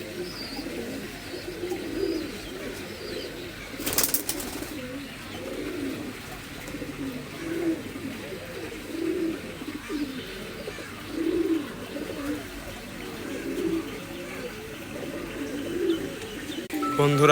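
Several Indian Madrasi pigeons, including imported Pilanka birds, coo continuously in a loft, overlapping low throaty calls rising and falling across the whole stretch, with one brief sharp knock partway through.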